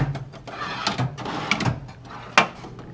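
Small drawers of a workbench tool chest holding screwdrivers and small tools slide open and shut several times, with soft clunks and a sharper knock near the end, close and alone without speech.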